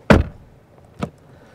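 The door of a Jaecoo J7 SUV swings shut with a firm, solid thump close by, followed about a second later by a softer second knock as it settles.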